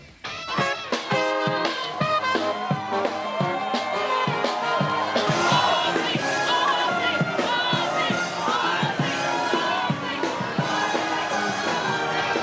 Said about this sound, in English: thousands of heavy metal fans have lined the road in Birmingham, England to farewell legendary rocker Ozzy Osbourne